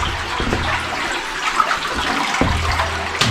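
Flowing river water in an underground cave setting of a video game, a steady broadband wash of rushing water running continuously and fairly close, with no talking over it.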